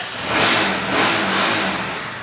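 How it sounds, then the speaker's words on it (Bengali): A used motorcycle, in good condition and about ten years old, is started with its electric self-starter and revs up, the engine swelling in two or three close, loud surges with no talk over it. "গাড়িটা আমি সেলফ দিয়ে দেখিয়ে দিই"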